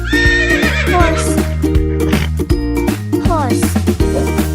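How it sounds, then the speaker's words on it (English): A horse neighs in a shrill, wavering cry near the start, then whinnies again later, both loud over a bouncy children's music backing. "horse,"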